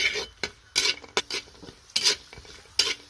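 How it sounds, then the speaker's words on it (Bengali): Cashews and raisins fried in a pan, heard as repeated scraping stirs and clinks of a utensil over a soft sizzle, in short bursts with no talk. "এখানে কাজু কিশমিশগুলোকে ফ্রাই করে নেব।"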